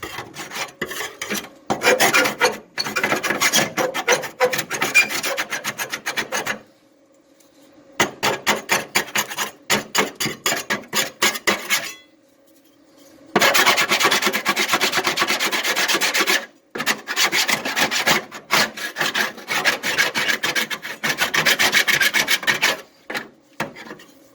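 Harsh, gritty scraping as a trowel works undercoating off the metal body of a 1966 Dodge Dart GT, in bursts of quick back-and-forth strokes separated by short silences.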